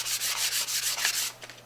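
Sandpaper rubs back and forth along a small forest axe's wooden handle in steady, close strokes, a dense hiss rising and falling with each pass before easing off near the end.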